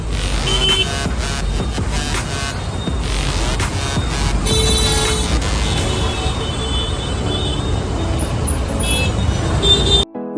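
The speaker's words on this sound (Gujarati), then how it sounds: "જ્યાં જઈને થોડું થોડું ટ્રાફિક નડતું જાય છે" Highway traffic rumbles on steadily and loudly, with vehicles passing close by, while a few faint, brief horn-like tones rise above the roar.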